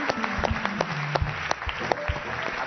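Distinct, moderately loud claps from an Italian television studio audience welcoming actor Vincenzo Salemme patter irregularly for a few seconds over quiet background music.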